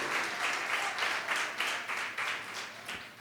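A church congregation applauds in a dense, continuous wash of clapping, steady and fairly close, for a few seconds.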